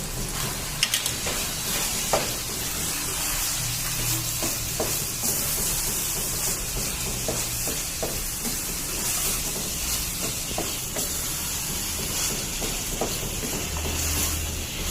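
Minced keema with onion and green chilies stirred in a hot pan: continuous hissing sizzle with repeated scraping and clinking strokes of a spatula, close and fairly loud, no talking.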